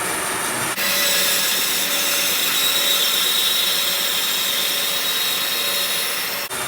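Band saw resawing a block of wood, a loud continuous whining drone with a steady high-pitched tone that runs unbroken through the cut, close up and alone with no talking.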